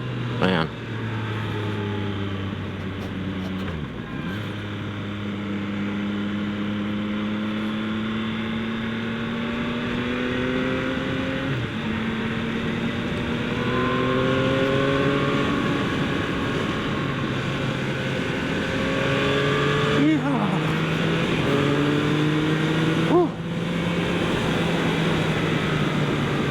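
Yamaha MT-09 SP motorcycle engine on the road in sport mode, revving up and down through repeated gear changes with rising and falling tones, steady wind rush throughout, and a rider speaking over it.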